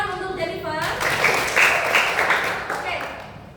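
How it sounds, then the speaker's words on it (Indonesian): A brief round of clapping from a class, applauding a student after her question, starts right after a short spoken phrase and carries on steadily for a few seconds at moderate loudness. "Beri tepuk tangan untuk Jennifer."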